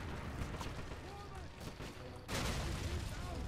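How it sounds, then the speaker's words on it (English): A video game grenade blast from a shooter, heard as a sudden loud burst partway through over ongoing low rumbling combat noise, near and booming. "That is an unfortunate grenade."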